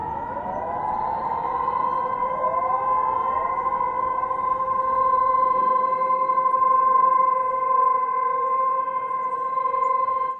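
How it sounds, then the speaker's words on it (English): Several city civil defense sirens from a sampled instrument rise together and hold a long, steady, overlapping tone, loud and sustained throughout. "you're gonna hear all the sirens go up at the same time."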